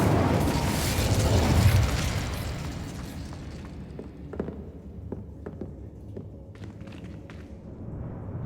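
A fire spell is cast in the video game Hogwarts Legacy, a loud roaring whoosh of flame that fades after a couple of seconds into scattered soft pops and light footsteps.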